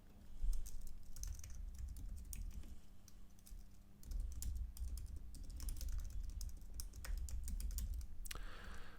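Fingers type on a computer keyboard in quick, uneven bursts of close clicking keystrokes over about nine seconds, with a brief pause midway before the tapping resumes.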